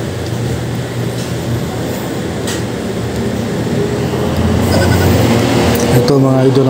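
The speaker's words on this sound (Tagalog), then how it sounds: "yan yung mga kambing." Goats at a farm bleat over a steady loud background rumble, the calls mixing into a continuous noisy wash that swells slightly toward the end.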